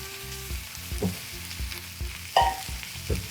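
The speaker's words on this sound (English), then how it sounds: "Sautéing onions. You hear that?" Onions sautéing in a hot pan give off a steady close sizzle and crackle, with a few louder pops and stirring scrapes and no talk over it.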